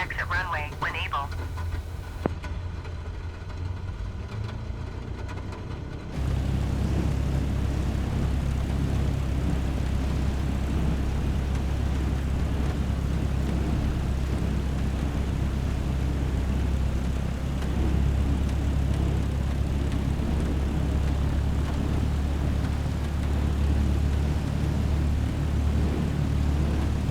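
Light aircraft taxiing to parking after landing, a steady droning propeller engine hum that holds loud and constant throughout, following a brief quieter radio-like stretch at the start.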